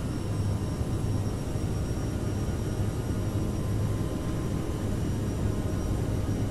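Steady, broad jet engine roar of a CRJ-700 regional jet spooling at takeoff power in a flight simulator, a constant, even rumble with a low hum beneath and no pauses.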